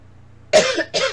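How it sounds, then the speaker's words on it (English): Two harsh coughs from someone who is sick, close and loud, the second following quickly after the first. "And I'm sorry about all the coughing."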